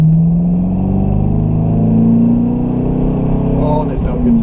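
A C5 Corvette's V8 engine revs up, its deep rising growl loud and close, then easing off near the end.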